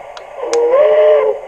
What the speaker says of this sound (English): We'll try the whistle.